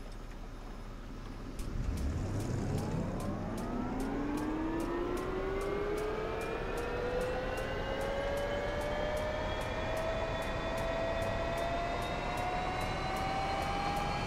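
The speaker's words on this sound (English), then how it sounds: "Start up the engine, Frank." An aircraft engine starts up in the DCS flight simulator, a turbine whine rising smoothly in pitch over several seconds and settling into a steady loud drone, with a regular ticking pulse throughout and no talk.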